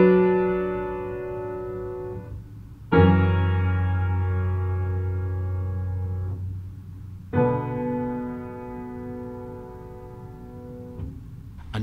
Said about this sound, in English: have that 1-6-4 resolve as it normally would to a dominant seventh chord